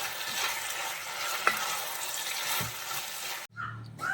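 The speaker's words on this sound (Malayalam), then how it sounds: "അതും കൂടി ചേർത്ത് നമുക്കൊന്ന് മിക്സ് ചെയ്തെടുക്കാം." Chilli gobi with green chilli sauce and dark soy sauce is stirred in a hot pan, a steady sizzle with spatula scrapes and a tap, cutting off abruptly near the end.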